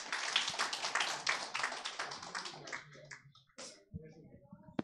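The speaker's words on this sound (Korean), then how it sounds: "뜨거운 박수로 우린 항상 뜨거운 박수로" Church youth congregation claps to welcome a new 20-year-old worship team member, a burst of dense applause for about three seconds that thins into scattered claps, with a speaking voice and a few isolated claps toward the end.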